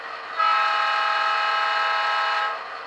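An Athearn GP38-2 model diesel locomotive with a Tsunami sound decoder sounds a sustained horn blast, loud and clear, that starts abruptly and fades out after about two seconds.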